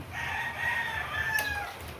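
A rooster crows in one long drawn-out call, moderately close, among chickens kept under a house, over a low steady background rumble.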